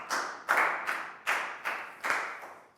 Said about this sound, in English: a big round of applause for Preo.